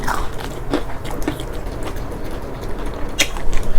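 Crispy meatballs being bitten and chewed close up, with a few sharp crunches standing out over a steady background hiss, with no talking.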